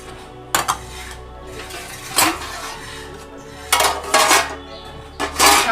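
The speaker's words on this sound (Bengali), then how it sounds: "ঢাকনাটা খুলে নিচ্ছি।" Metal lid lifted off a cooking pot of palak paneer, clattering in several sharp bursts of clinks and scrapes against the rim over a low steady background hum.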